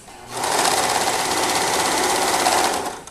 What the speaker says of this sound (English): as I'm sewing, just like we did with the leg warmers, I'm going to stretch this just a little